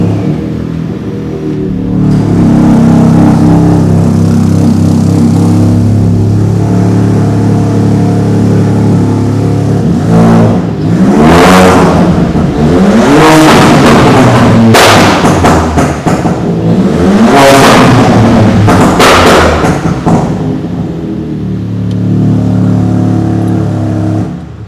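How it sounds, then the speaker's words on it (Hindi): A VW Polo 1.0 TSI with a stage 2 ECU tune and a loud exhaust revs up repeatedly, each rev ending in sharp crackling pops and bangs, loud and close, with no talking. "So we have got a stage 2 ECU tune with pops and bangs."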